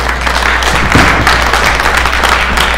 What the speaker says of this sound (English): Let us give this gentleman a big clap.